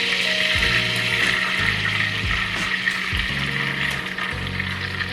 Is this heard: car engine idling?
no